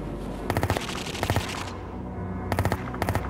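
Automatic gunfire from the video game Project IGI rings out in short, sharp bursts, several rapid volleys separated by brief pauses, loud and close with no one speaking.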